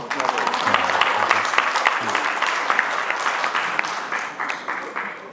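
A seminar audience at a medical trade show in Busan breaks into sustained applause, many hands clapping together in a dense, lively wash that gradually thins toward the end.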